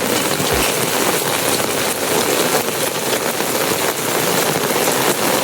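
Steady rain falls in a village beside a farmhouse, wetting a parked tractor, a dense continuous hiss of drops on surfaces, loud and close throughout with no voices.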